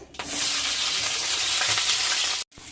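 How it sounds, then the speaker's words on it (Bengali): Broccoli florets frying in hot oil in a home kitchen pan make a loud close sizzle that starts abruptly, holds steady, then cuts off briefly near the end before resuming. "ব্রোকলিগুলো ভেজে নিয়ে"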